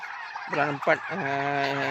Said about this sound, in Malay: Tapi payah juga nak besarkan anak ayam Belanda ni.